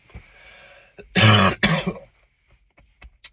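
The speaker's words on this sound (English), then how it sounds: "I got a nasty cough." A single harsh, throaty cough bursts out loud and close, with a second shorter cough right after, then near silence with faint small noises.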